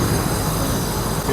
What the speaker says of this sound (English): now we can actually go ahead and take the metro back down to Monas